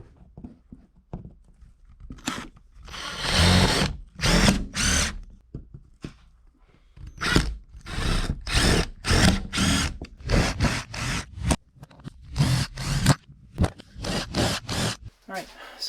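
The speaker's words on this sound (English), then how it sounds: "so we're at a point where I can start screwing stuff in." A power drill drives screws into the wall panels of a 2011 Ford Transit Connect van, sounding in repeated short bursts with pauses between them, near and fairly loud.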